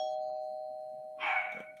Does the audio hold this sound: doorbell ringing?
yes